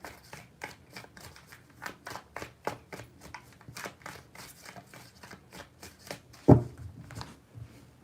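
Tarot cards shuffled by hand in a quick, even run of soft riffling flicks, close and fairly quiet, with one heavier thump near the end and no talk.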